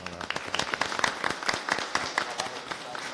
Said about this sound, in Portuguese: Eu queria pedir uma salva de palmas a todos eles que estão aqui presentes